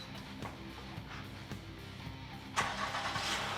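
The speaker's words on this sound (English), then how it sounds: "we're going to leave the car in park and start it." A Honda Accord, in park after front and rear brake pad and rotor work, starts up: a brief cranking burst followed by the engine settling into a steady, fairly close running sound, heard without talk.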